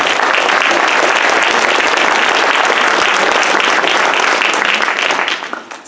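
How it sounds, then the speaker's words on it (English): Loud, sustained applause from an audience at a startup pitch competition finale, a thick continuous roar of clapping that holds steady for several seconds and then tapers off at the end. "let's give them a round of applause as well"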